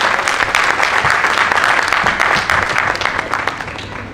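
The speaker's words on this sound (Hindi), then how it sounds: "एक बार जोरदार तालियां हमारे सभी कलाकारों के लिए।" An audience at a Hindi theatre festival play applauds the performers with loud, dense clapping that holds steady throughout and eases slightly toward the end, no talk over it.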